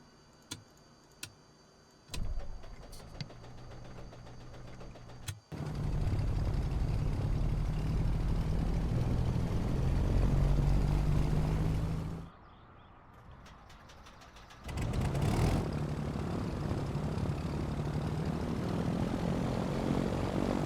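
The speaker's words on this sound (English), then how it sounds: "adjust the audio so you guys can hear the engine start properly" A simulated JustFlight Turbo Arrow propeller engine in Microsoft Flight Simulator cranks with a few clicks, then roars into a loud steady run. It briefly drops to a quieter idle before surging back up, with no talking throughout.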